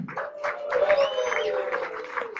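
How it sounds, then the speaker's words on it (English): Applause from an audience at a live merchandising competition event, a soft steady patter of many hands clapping at a distance throughout, with a faint tone sustained over it. "First, please, a round of applause from Innomark."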